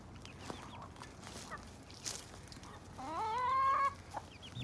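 Chickens cluck softly in the background, then one lets out a louder drawn-out squawking call near the end, with faint outdoor ambience.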